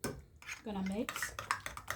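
A utensil clinks and scrapes against a pot or bowl while stirring a sauce seasoned with lemon, pepper and salt, giving a few quick metallic taps and a short scraping swirl, close and fairly quiet.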